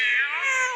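A single short, high-pitched meow, close and clear, lasting under a second with no talking around it.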